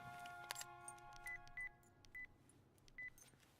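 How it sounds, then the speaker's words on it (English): A phone being dialed in a Final Fantasy VII game scene, with a clicky keypad press followed by four short, evenly paced dial-tone beeps, faint and heard alone over a low hum. "Just making a phone call?"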